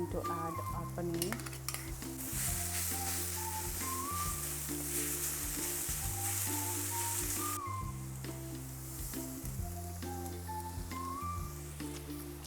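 Crumbled paneer fries in a pan with a steady sizzle, while a utensil scrapes and stirs in a repeating rhythm and a louder burst of sizzling comes midway.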